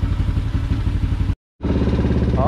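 A Yamaha LC135 motorcycle runs close by after a clutch repair with a new 63 mm clutch and iron plate, its engine giving a steady rhythmic clatter that is cut by a short silent gap before resuming.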